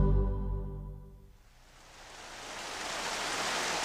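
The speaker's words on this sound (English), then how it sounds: "The rains come early, making the track a sea of slop." Rain falls on a racetrack as a steady broadband hiss that builds after a fading tonal sound at the start, then holds loud and even.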